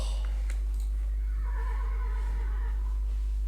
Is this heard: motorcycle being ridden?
no